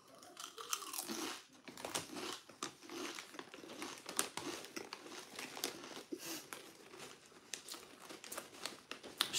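Chili-flavoured Doritos chips crunched and chewed up close over about nine seconds, with a steady run of crisp bites and crinkling from the bag, no talking.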